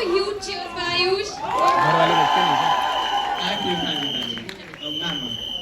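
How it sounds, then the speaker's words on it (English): A crowd at a film trailer launch event erupts in loud cheering and whooping, high shrill shouts rising over scattered applause, with a host's voice and chatter running through the noise. "Can we have like a huge cheer for Ayush?"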